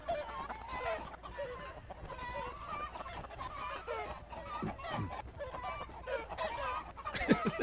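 Chickens cluck and squawk in the battle game Totally Accurate Battle Simulator, scattered calls overlapping against a low background rumble, with a louder burst near the end.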